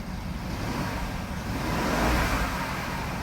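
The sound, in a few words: BMW F02 750 ActiveHybrid engine revving on acceleration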